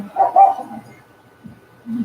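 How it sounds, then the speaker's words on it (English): Dogs bark in a couple of short bursts near the start, with fainter yips and whimpers trailing after, heard indoors in a quiet room. "We're going to be hearing the dogs for a little bit."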